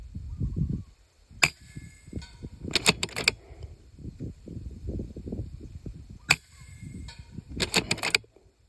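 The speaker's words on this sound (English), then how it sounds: "I'm shooting off a sandbag" An NSA 20.2 grain slug fired from an airgun resting on a sandbag outdoors: a few sharp, close reports, some in quick doubled bursts, each with a short bright snap over a low rumble of wind.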